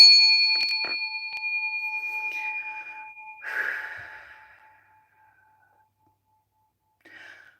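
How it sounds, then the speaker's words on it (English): A hand bell ringing in a quiet room, clear sustained tones with a few strikes close together at the start, fading out, followed by a soft breath and near silence. "I'm going to go ahead and ring this bell 3 times."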